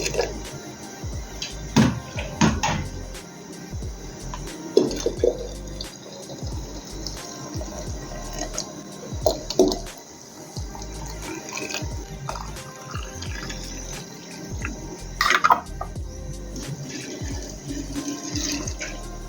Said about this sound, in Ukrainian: Заливаю кип'ятком черешні